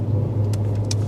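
Renault Clio 3 RS F1 Team rolling downhill, a steady low engine rumble heard from inside the car with a couple of faint brief hisses, no talking.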